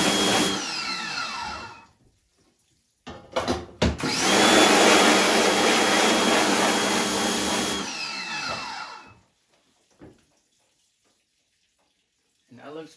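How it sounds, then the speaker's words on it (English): A screen printing screen gets rinsed with a hose, giving a steady broadband rush of spraying water for several seconds after a brief earlier spray, then falling silent with a few small knocks. "Just rinse both sides once again."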